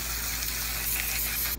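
Aerosol hair color spray hisses in one continuous close burst lasting over a second, steady and fairly loud, with no talking.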